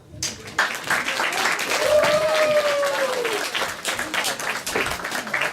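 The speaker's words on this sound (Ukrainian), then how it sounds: "ми під ваші бурні оплески попросимо на сцену першого учасника" Audience applause welcoming a band's frontman onto the stage at a memorial concert for a musician; steady clapping from a crowd runs throughout, with voices and whistling mixed in.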